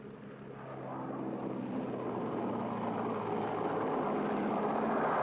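An airplane taxiing at an airport makes a low, continuous engine drone that swells gradually louder, with no voices over it.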